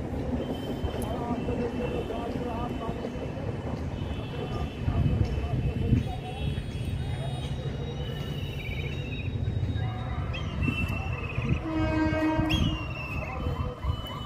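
A train rolling past a level crossing, with steady rumbling and clattering wheels and a high squeal or whine near the end, heard close by under intermittent talk.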